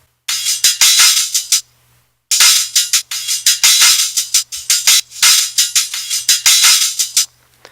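A hi-hat sample on an SP404 plays at full length in rapid repeated bursts, bright hissy hits with a low hum beneath, grouped into phrases separated by short silences, loud and alone.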